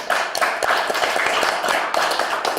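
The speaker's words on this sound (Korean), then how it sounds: "박수 한번 보내주시죠" An audience at a seminar on the May 18 Democratic Uprising claps to welcome a researcher, a lively patter of many hands at close range, steady for a couple of seconds with distinct sharp claps on top.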